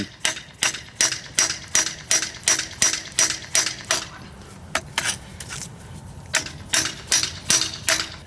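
Sharp metallic hammer blows tapping a coilover part into place on a 1996–2000 Honda Civic, struck in a steady rhythm of about fourteen close, loud hits, a short pause, then another run of quicker strikes.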